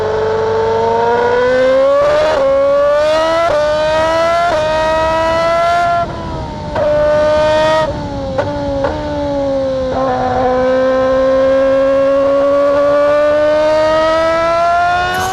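A Honda F1 race car is driven hard. Its loud, high-pitched engine wail climbs steadily through the revs, with a series of abrupt gear-shift drops and brief lifts before it screams on again.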